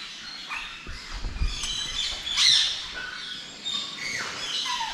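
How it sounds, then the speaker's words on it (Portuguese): Plum-headed parakeets in an aviary give harsh, scattered squawks and chirps over a busy background of bird chatter, mid-distance and fairly loud, with no voices. "Aqui nós temos cabeça de ameixa"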